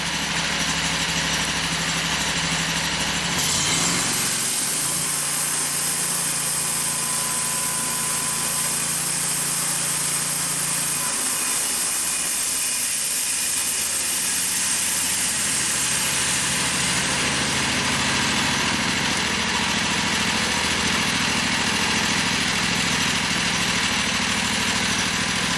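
A Norwood HD36 sawmill engine runs steadily on remote drive, a loud, continuous idling drone with a shift in pitch and load partway through and no talking.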